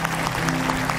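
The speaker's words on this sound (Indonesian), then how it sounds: "Boleh tepuk tangan boleh." Brief burst of studio audience clapping on an Indonesian television talk show, a dense, even patter of many hands with no voices over it.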